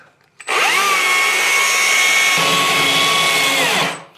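Power saw cutting through a warehouse gate, the blade whining steadily at full revs with a rough grinding undertone for about four seconds, loud and close, then spinning down.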